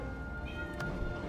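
A cat meows once, briefly, in the Guild Wars 2 game, over a dense, steady background hum.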